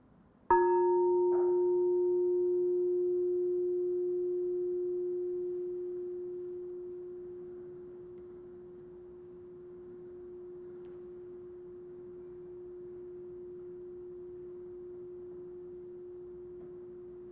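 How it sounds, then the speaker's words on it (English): A meditation bell struck once at the end of a meditation, giving a clear sustained tone that slowly fades over many seconds in near silence. "So here's the sound of the bell."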